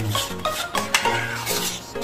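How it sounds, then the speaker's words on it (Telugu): Orange juice thickens in a pan on the stove while a spoon stirs it, giving a quick run of close metallic scrapes and clinks over a faint sizzle. "జ్యూస్ని మనము స్టిర్ చేస్తూనే ఉండాలి అది కొంచెం"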